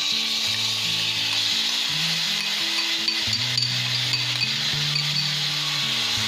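Onion frying in a pan with cumin and turmeric, a loud continuous hiss of oil under a faint, steady background hum.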